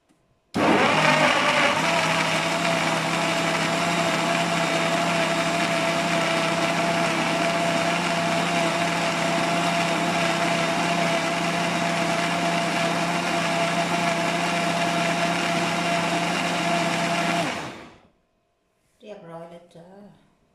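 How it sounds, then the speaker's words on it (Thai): A blender whirs steadily and loudly for about seventeen seconds, blending strawberries, banana and fresh milk into a smoothie, then cuts off abruptly; a voice speaks briefly after it stops. "เดี๋ยวเราไปปั่นกันเลย"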